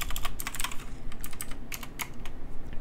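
Computer keyboard typing in a Roblox Studio coding session, a steady run of quick clicky keystrokes in small irregular bursts, close and fairly clear over a low background hum.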